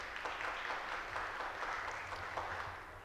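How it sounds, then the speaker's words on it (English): Steady, fairly distant applause from a seated hospitality-industry conference audience greeting the chief guest, a pastry chef, with many hands clapping evenly throughout. "A big round of applause for the chief guest, Chef Kevin."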